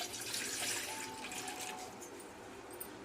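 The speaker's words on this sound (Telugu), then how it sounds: "2 చెంబుల నీళ్ళు గిన్నెలో పోస్తాను" Water poured from a metal pot into a bowl, a continuous close splashing stream that runs the whole time.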